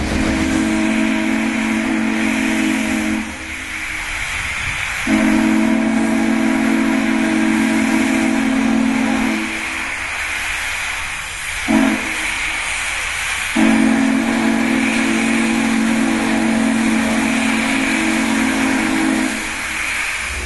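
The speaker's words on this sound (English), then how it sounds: "Because it's a steam whistle, it's like it's alive." A loud whistle from the Union Pacific 844 steam locomotive blows in three long, breathy blasts with short gaps between them, over a steady background hiss.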